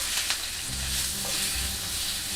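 Mushrooms fry in butter in an uncrowded pan, giving a steady, close sizzle with some soft crackling throughout.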